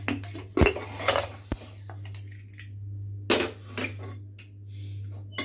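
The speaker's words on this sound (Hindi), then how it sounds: "1 विसल के बाद 20 से 25 मिनट से कुकर का मैं लिड खोल रही हूँ।" Several sharp metallic clanks and clinks of a pressure cooker lid being opened after cooking dal, with a steady low hum underneath and quiet gaps between.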